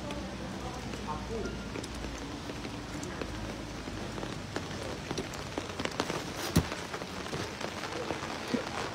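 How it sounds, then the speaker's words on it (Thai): Heavy rain pours steadily at Wat Lok Moli temple in the evening, a dense, constant hiss with scattered louder drip and splash hits, under low voices. "ฝนตก"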